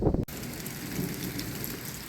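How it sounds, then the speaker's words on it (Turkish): Heavy rain pours down during a bicycle tour in Greece, a dense, constant wash of hiss and patter that follows a brief thump at the start, with no voices. "Yağmur felaket bastırdı."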